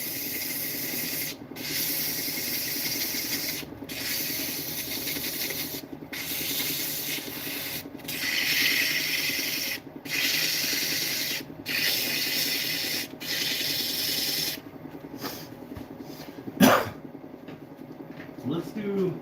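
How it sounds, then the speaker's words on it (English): A wooden snowman bottle stopper is sanded on a running lathe: a steady broadband rubbing hiss recurs in passes broken by short pauses, then stops near the end with a few scattered knocks. "we're already here, we're already sanding"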